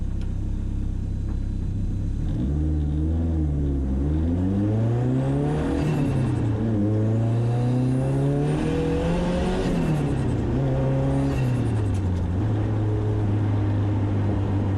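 Loud boom tube exhaust on a modified car, rising and falling through several hard revs with strong harmonic sweeps, deep rumbling between pulls and some crackle, close and alone with no talk.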